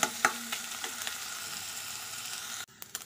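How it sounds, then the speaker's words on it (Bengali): Small shrimp fry in hot oil without salt or turmeric, giving a close, steady crackling sizzle with a few sharp pops before the sound cuts off abruptly near the end. "তেল গরম হয়ে গেছে, এখন চিংড়ি মাছটা দিয়ে দিচ্ছি। চিংড়িটাকে ভালো করে ফ্রাই করে নেব।"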